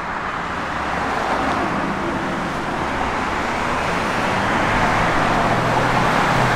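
A 1966 Ford Mustang in signal flare red cruising on the road, a steady broadband rush of tire and wind noise over a low engine drone, loud and continuous without speech.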